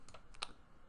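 A few quiet clicks from typing on a computer keyboard in a Java coding session in Eclipse, three or four soft, uneven keystrokes close by with one sharper tap, and no talking.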